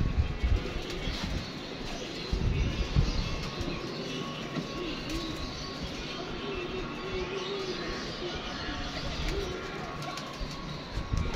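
Pigeons coo at an outdoor loft, a continuous low murmur of cooing mixed with rumbling background noise and brief louder bursts, close but muffled, with no clear speech.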